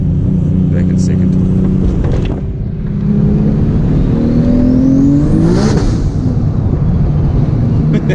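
A 1000+ HP Nissan R34 GTR revs hard on a dyno, its engine note climbing steeply with a whine and roar, loud and close, with people talking over it.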